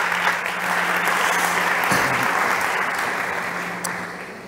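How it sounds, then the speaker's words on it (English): Sustained applause from a startup competition audience, a dense steady clatter of clapping that fades slightly toward the end. "big applause for Mark."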